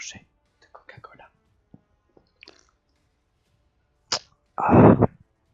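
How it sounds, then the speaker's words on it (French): Someone takes close, quiet sips of Coca-Cola, with small wet clicks and slurps followed by a louder breathy gulp or exhale at the end. "Je prends la première gorgée de Coca-Cola."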